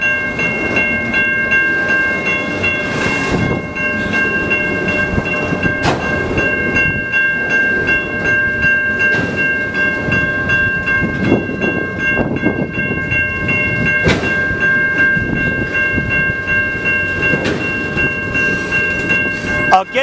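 A CN freight train rolls past a railroad crossing in Ecorse, Michigan, with a continuous loud rumble and clatter of cars and periodic wheel clicks, while the crossing bell rings steadily.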